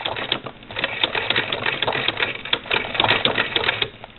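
A Singer Model 20 SewHandy toy sewing machine runs steadily, stitching quilt binding over pins with a fast, even mechanical clatter and occasional sharper ticks as the needle strikes pins, close and continuous throughout.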